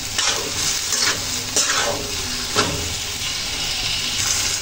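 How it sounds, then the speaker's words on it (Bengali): Tomatoes and vegetables with spices are stirred in a sizzling pan for a fish curry, a constant close frying hiss marked by several rhythmic scraping strokes of a spoon against the pan. "ভালো করে নেড়ে চেড়ে দিতে হবে, যেন মশলার সাথে সবজিগুলো লেগে থাকে।"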